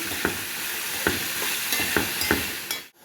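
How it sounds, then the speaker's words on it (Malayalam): Chopped cassava tossed with turmeric powder in a frying pan, stirred in a string of distinct scraping strokes about once a second over a steady sizzle, close and clear with no voices. "അരിഞ്ഞും കഴുകി വെച്ചിരുന്ന കപ്പയ്ക്ക ഈ ചീനിച്ചട്ടിയിലോട്ട് ഇടാം. മഞ്ഞൾപ്പൊടി ഇട്ട് കൊടുക്കാം. നമുക്ക് ഇളക്കാം."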